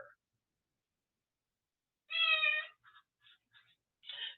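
A pet cat meows indoors, one clear drawn-out meow followed by several short chirping calls and another meow, close and fairly soft with silence between.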